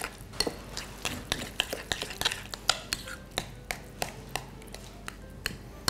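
Mashed boiled potatoes being worked together with butter by hand in a bowl, giving soft, close squishing and scraping with irregular small knocks of a utensil against the bowl, fairly quiet and with no talking.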